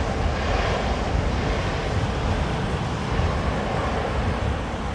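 An airliner landing at London Heathrow in a southwesterly crosswind during wind and rain, heard as a steady, loud broadband engine roar mixed with wind buffeting on the microphone for the whole stretch.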